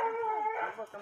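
Hunting dogs on an armadillo hunt howl and bay loudly together in a sustained chorus, with a brief dip near the end before the howling resumes.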